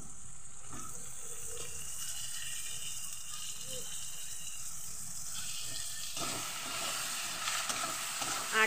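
Steady sizzling from a pan as tomatoes go into hot oil with ginger and salt, a continuous hissing fry that swells louder near the end.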